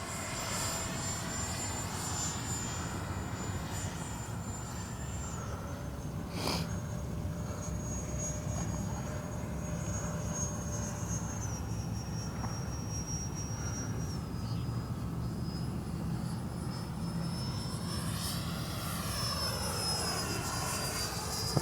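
An E-flite 64mm Viper electric ducted-fan RC jet flies overhead, a steady whining roar with shifting high tones that holds throughout at moderate distance, with faint talk in the background.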